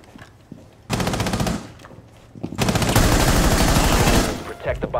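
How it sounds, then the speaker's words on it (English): Automatic gunfire in Rainbow Six Siege, two loud rapid bursts of shots, a shorter one followed by a longer sustained stream, with quieter game sounds between. "Just peek through and shoot him, Haggard."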